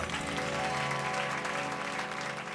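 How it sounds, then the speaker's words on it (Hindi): A crowd applauds steadily, a dense wash of clapping that holds at an even level throughout with no talking on top. "तो इस बचपन के लिए बजाइए एक बार जोरदार तालियां।"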